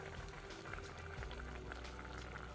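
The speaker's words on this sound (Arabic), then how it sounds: "بيبتدي يغلي، بنرمي الحمص لأنه بياخد كمان فترة طبخ" Meat, onions and chickpeas boiling in a pot, a soft steady bubbling and simmering that stays fairly quiet and continuous.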